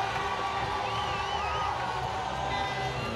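Crowd cheering at a women's hockey World Cup match between Ireland and India, a dense continuous roar of a stadium audience with a faint commentator voice under it.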